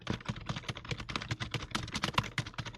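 Rapid, fairly loud typing on a limited edition Bugha 60% membrane gaming keyboard, with dense irregular key presses running throughout and no talking.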